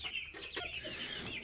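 Chickens in a backyard laying flock cluck nearby, with repeated clucks and higher squawks over a constant outdoor background, with no talking.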